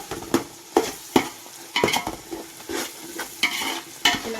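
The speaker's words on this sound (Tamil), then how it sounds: "கொஞ்சம் வதங்கட்டும், அந்த பச்சை மிளகாய் கொஞ்சம் வேகட்டும்" Green chilies, about seven or eight, are sautéed in a pan for dum biryani, with soft sizzling and repeated scraping stirs of a spatula against the pan coming in irregular bursts.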